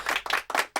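A burst of audience clapping welcomes a competition's title winner to the stage, with four distinct loud pulses of close, dense applause in quick succession.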